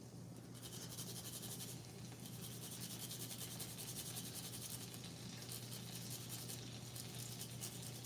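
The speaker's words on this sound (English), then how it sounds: "I'm gonna take a grater. Just grate this in." Garlic rubbed over a grater into melting butter in a pan: a soft, continuous scraping rasp with faint rhythmic strokes and a quiet sizzle underneath, close but low, with no talk.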